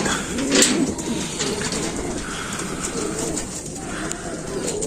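Soft racing pigeon cooing rises and falls against a busy, noisy outdoor background, with a brief flutter of wings near the start, during training for a winter race.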